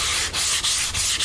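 A sanding block swiped along the edge of a model airplane tail part, giving four quick, close abrasive rasps in a steady rhythm with no talk.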